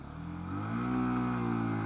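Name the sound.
UM Renegade Commando motorcycle engine revving while pulling away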